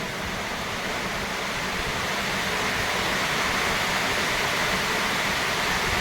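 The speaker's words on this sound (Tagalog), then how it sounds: "bumuhos na naman ang ulan" Heavy rain pours down in a dense, unbroken hiss, a steady wash of noise with no voices or other sounds.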